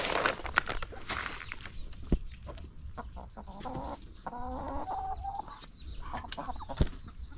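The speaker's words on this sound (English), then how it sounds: "we still have a lot of chicken here you see" A flock of large chickens on a compound clucks steadily at close to middle distance, with scattered sharp knocks and rustles among the birds and no talk.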